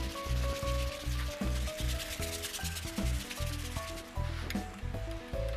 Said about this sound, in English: give it a bit of a scrub to help push the product into the teak